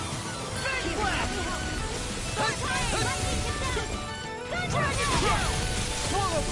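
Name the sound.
Fang Blast attack effect in the video game Tales of Arise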